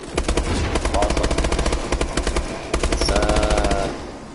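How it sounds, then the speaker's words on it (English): Bar 27 rifle firing in rapid automatic bursts in Exo Zombies, a loud steady stream of close shots with a short pause before a second long burst. "This weapon is actually really good, the Bar 27."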